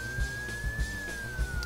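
Ambulance siren within a Dr. Mario video game music remix, a steady sustained wail layered over a thumping beat and music throughout.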